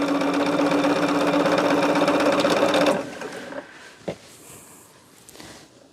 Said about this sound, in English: It makes such a difference in how the machine sews.